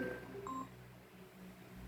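An incoming call sets a phone ringing with a quick run of faint electronic beeping tones at different pitches, then it falls quiet.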